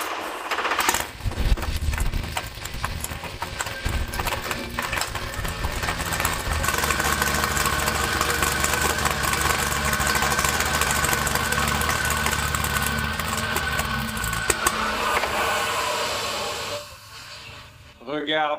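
A 1500 hp Texas Speed LS V8 engine in a Huracan starts for the first time, with cranking followed by a loud, rough, close idle and revving, talking over it, and a sudden cutoff near the end.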